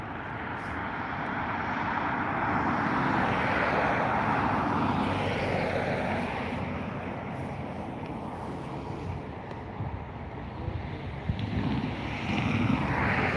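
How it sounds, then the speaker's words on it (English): An eight-year-old Ryanair Boeing 737-800 starting its takeoff roll on runway 10R at Dublin Airport: a steady, broad engine roar that swells and shifts, mixed with gusty wind noise on the microphone. "an 8-year-old 737 800, beginning its takeoff roll on runway 10 right"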